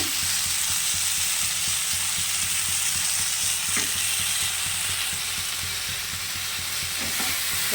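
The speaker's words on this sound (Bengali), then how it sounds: "কষিয়ে নিচ্ছি" Malabar spinach and vegetables with prawns being sautéed in a pan, a loud continuous hiss and sizzle with occasional stirring scrapes, close up and without talk.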